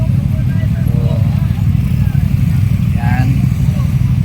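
Motorcycle engine idling and running close by during a test drive, a steady low rumble with a few brief higher revving rises.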